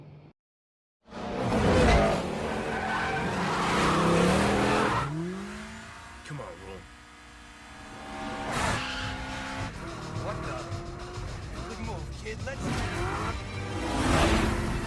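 Street race cars skid in the 2003 film 2 Fast 2 Furious, with loud tire squeals, revving engines and whooshing passes over several seconds and a brief shouted line between them.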